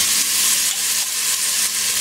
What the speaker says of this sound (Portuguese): Uma leve alourada no alho, um pouquinho só